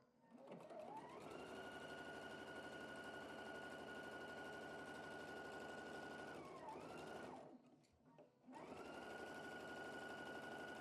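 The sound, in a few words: sewing machine sewing a cross seam in a quilt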